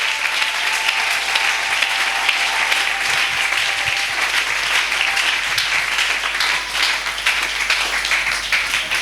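A church congregation applauds, a dense and sustained wash of clapping that stays loud and even throughout.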